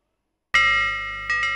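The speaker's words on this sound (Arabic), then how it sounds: "جرس الفسحة طرب طرب صوته كله طرب طرب" A school recess bell rings on the first day of the school year in Egypt, a loud, steady electronic ringing tone that starts after a short silence and swells twice near the end.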